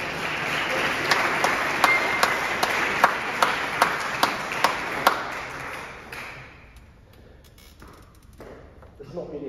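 An audience in St Leonard's church, Walton-le-Dale, applauds after an organ recital piece. A few sharp, separate claps ring out in the reverberant hall over a soft wash of clapping that fades away after about six seconds, leaving quiet room noise.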